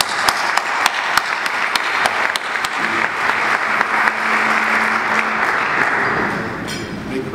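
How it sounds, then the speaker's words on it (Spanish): Diners at a foundation's anniversary dinner applaud, starting with a few sharp claps that swell into full, steady applause from the room. "Un gran aplauso para Luciana y tu equipo"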